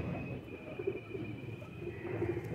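A round-winged teddy pigeon coos softly and low in a pigeon loft, its faint murmuring calls repeating over a steady background hum.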